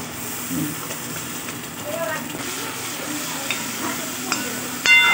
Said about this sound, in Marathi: चांगलं मिक्स करायचं. ह्याला तेल सुटूपर्यंत परतायचं आहे.